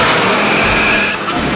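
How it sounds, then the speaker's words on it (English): Car engine revving hard during a street race, a loud rising roar with a strained whine that eases off near the end. "I love this car."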